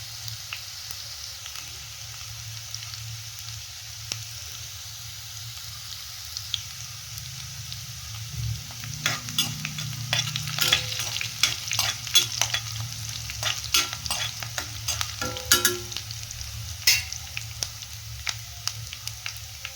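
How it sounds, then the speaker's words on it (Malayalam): Curry leaves, ginger and green chilli sautéed in hot oil for a Kerala lemon pickle: a quiet low sizzle builds into a livelier crackle as stirring picks up, with frequent spoon scrapes against the pan. "കറിവേപ്പിലയും ഇഞ്ചിയും പച്ചമുളകും ഇട്ട് കൊടുത്ത് നല്ലോണം ഒന്ന് വഴന്ന് വന്നിട്ട്"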